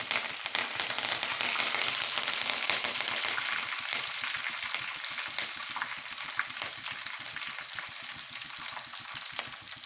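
Dried red chillies and curry leaves sizzle in hot oil for a tempering for dal, a dense, steady crackling fry with rapid popping that continues throughout.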